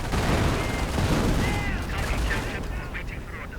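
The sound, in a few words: MG42 machine gun fire in a video game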